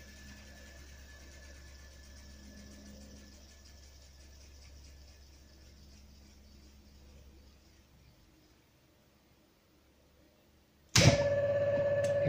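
An electric motor on a star-delta starter, restarting in reverse rotation: a faint hum winds down to near silence, then the motor abruptly kicks in with a loud, steady whine and hum.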